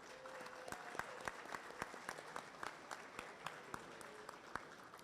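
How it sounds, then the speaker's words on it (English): Applause from the audience at a broadcasting awards ceremony, a steady spread of many hands clapping heard from the room at moderate level for several seconds. "Let's give them a round of applause."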